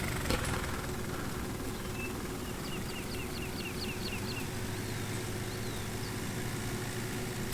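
A tractor engine in the Farming Simulator 19 video game drones steadily and continuously with a low rumble, while short bird chirps sound faintly in the background.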